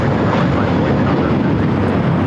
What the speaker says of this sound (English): This is American Airlines 382 taking off to Boston on the A321.